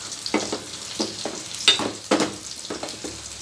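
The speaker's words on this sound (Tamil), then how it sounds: "இது கொஞ்ச நேரம் வதங்கட்டும்." Brinjal and drumstick sauté in a pan with dried chilli and shallots, giving a close, soft sizzle broken by repeated scraping stirs at an uneven rhythm, with no speech.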